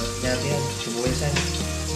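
Chopped onion fries in a pan for pinakbet, giving a close, dense sizzle broken by a few stirring clatters, with no one talking.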